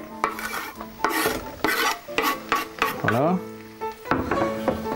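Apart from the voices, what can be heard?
stirring shrimp and parsley frying in a pan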